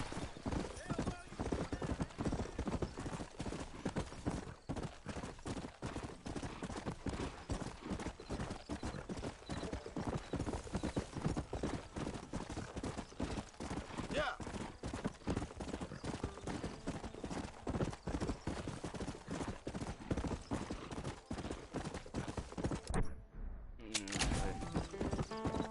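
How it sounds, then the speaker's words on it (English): Horse hooves clip-clopping in a video game, a steady rhythmic trot that continues for the whole stretch with an occasional whinny, running under someone talking, with a brief drop-out near the end. "Ahí está mi caballo."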